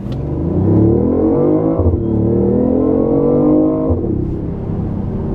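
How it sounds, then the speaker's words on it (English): A 2015 BMW i8 Pure Impulse pulls away from a stop, its engine note climbing steadily, then dipping briefly at two automatic gear shifts before rising again; loud and close from inside the cabin. "Now take off. Let it shift for you."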